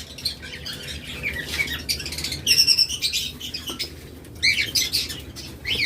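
A pair of lovebirds, one red-eyed and one black-eyed, chirp in sharp, bright bursts nearby, with brief wing flutters between clusters of calls.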